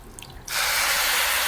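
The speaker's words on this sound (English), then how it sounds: "You strain the milk to separate the coconut flesh from the milk." Coconut milk pours through a kitchen strainer in a sudden, steady splashing gush that starts after a quiet moment and runs close and loud to the end.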